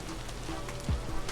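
Rain falls at night in the video game Vintage Story, a steady patter of drops on surfaces that stays close and even throughout, with a low thump partway through.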